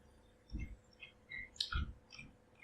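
A few faint computer mouse clicks while ending a running Java program, spaced irregularly over a low background hum, with no talking.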